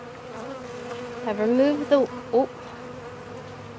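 Worker honey bees hum inside a hive with a low, steady buzz, while a person speaks briefly over it.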